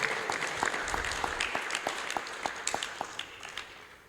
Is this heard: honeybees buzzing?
no